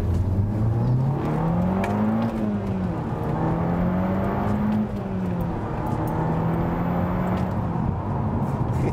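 An Audi S3 engine revs and pulls hard through several gears, the pitch climbing and dropping with each shift, loud and close from inside.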